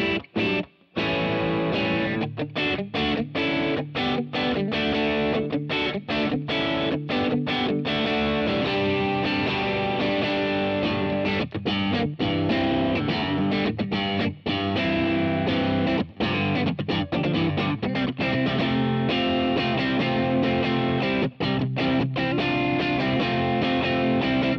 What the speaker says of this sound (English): Now the two pickups together jangle very nice with some distortion.